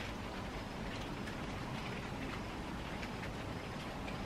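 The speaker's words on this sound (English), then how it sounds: "It's raining though." Light rain falls outdoors at night, a faint, steady, even hiss of drops that continues throughout with no voices.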